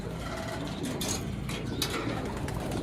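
Soft, low pigeon cooing in the background in a pigeon loft after feeding, with faint rustling and brief fluttering bursts nearby.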